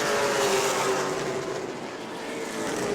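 Pro Late Model race cars roar around the New Smyrna track, a loud continuous engine drone that swells and fades slightly as the pack passes close by.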